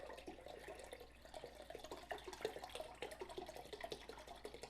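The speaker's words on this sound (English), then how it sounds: "to the liner of our crock pot, we're going to add 3 cups of low sodium chicken broth" Low sodium chicken broth pours and splashes into a crock pot liner, a steady liquid gush with uneven sloshing bursts throughout, close and moderately loud.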